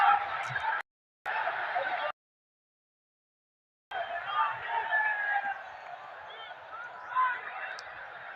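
A large cricket crowd roars at the stadium in Mirpur during a Bangladesh Premier League match, a dense loud din broken by two abrupt silent gaps, with a commentator talking over it.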